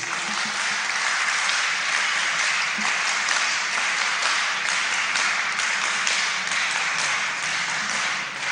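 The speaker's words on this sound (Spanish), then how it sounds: "Recibamos un aplauso a Alberto Borea Odría" An audience at a political talk applauds to welcome speaker Alberto Borea Odría, an even, sustained patter of many hands clapping at moderate loudness throughout, with no voices on top.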